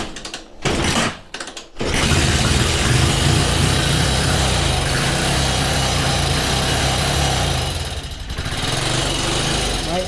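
A motorcycle engine is kicked over, giving a few short bursts before it catches and runs at a loud, steady idle close by, briefly dipping near the end.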